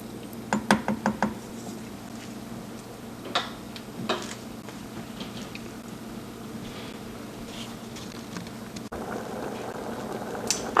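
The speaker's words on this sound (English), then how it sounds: "Our rice is boiling now." A pot of rice boils on the stove with a soft, steady bubbling, broken by a quick burst of sharp clicks near the start and a few lone knocks later.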